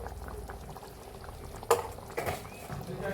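Potato curry (aloo dum) made with small potatoes boils in water over a high flame, giving a steady close bubbling and hiss. A sharp clink and a brief liquid stir break through midway.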